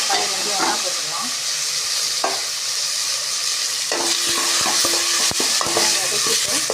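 Tomatoes and curry leaves sauté in a hot pan for a homemade sambar, giving a steady close sizzle with intermittent clinks and stirring scrapes of a utensil, louder toward the end, with no talking.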